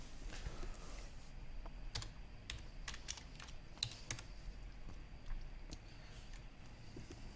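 Quiet typing on a computer keyboard, an irregular run of soft clicks and key taps close by with no talking.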